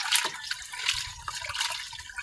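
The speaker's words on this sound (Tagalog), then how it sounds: "So, kunti lang daw tubig ilagay natin." Water poured in small amounts into a cooking pot for preparing salted dried fish, a close, light trickling and splashing with faint drips.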